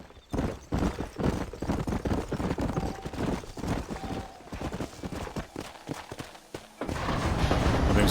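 A horse gallops in the Wild West video game Red Dead Redemption, giving a steady run of close, clear hoofbeats that carries on through most of the stretch.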